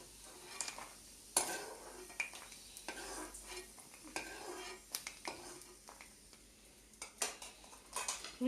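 Almonds fried in a pan while making suji rava prasadam, heard as a quiet sizzle under repeated clinks and scrapes of a spoon stirring against the metal pan.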